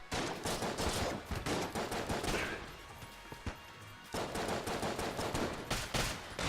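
Rapid, dense bursts of gunfire from the video game Enter the Gungeon, loud and continuous with only a short lull in the middle before the shooting resumes.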